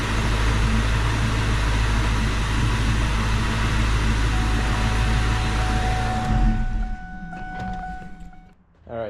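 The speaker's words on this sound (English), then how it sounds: "the throwout bearing is actually making sound" Faulty throwout bearing on a 2003 Mustang GT clutch, a loud continuous whirring drone with a steady whine that drops away after about six seconds, leaving faint clicks and a brief thump.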